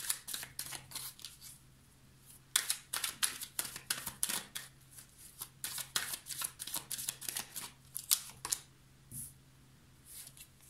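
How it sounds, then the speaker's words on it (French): Tarot cards being shuffled and laid out by hand, a steady run of crisp riffling and slapping card sounds, close and fairly soft, with no voices. "je vais aller recouvrir les cartes pour avoir plus de précision"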